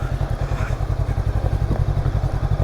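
Daytona Rockstar 500 motorcycle engine chugging in first gear while riding off-road, a steady loud low-pitched pulsing thump with rhythmic exhaust beats and faint clatter.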